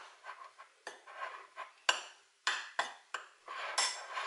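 Ingredients for homemade chicken croquettes, including chicken stock, are stirred in a bowl with a utensil, giving a series of sharp clinks and scrapes against the dish, close and irregular, with short pauses between strokes.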